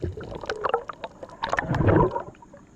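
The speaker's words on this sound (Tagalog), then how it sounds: "kung napansin nyo mga idol, bumubula na yung alon" Foaming sea waves churn and gurgle close by, with irregular splashing bursts that swell louder near the end, heard from someone at sea while fishing.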